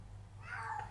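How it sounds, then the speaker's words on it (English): A house cat gives a single brief meow, faint and somewhat distant, over a low background hum. "Sorry, that's my cat."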